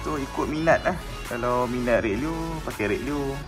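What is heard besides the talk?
No everyday noises stand out.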